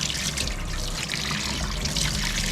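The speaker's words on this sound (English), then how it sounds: "Oh, hot water." Hot water runs from a tap in a steady, soft trickling stream that continues without a break.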